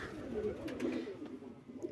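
Dirkach-breed pigeons cooing softly in a loft, a few low throaty coos overlapping at close range with faint background rustle.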